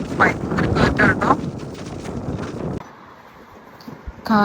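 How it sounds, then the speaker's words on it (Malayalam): Strong gusting wind buffets the microphone near grain fields by a suspension bridge in Israel, a loud rushing roar that eases slightly midway before a brief voice cuts in at the end. "ഭയങ്കര കാറ്റാട്ടോ."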